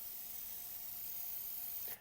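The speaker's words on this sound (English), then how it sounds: "it's really spraying much better than it was even before" A repaired Preval sprayer gives a steady, even hiss of spray for about two seconds, close by, before cutting off abruptly.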